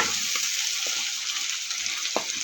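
Pasta water is poured into sizzling spaghetti sauce in a pan, giving a steady bright sizzle and frying hiss with occasional small pops and bubbling, close and moderately loud.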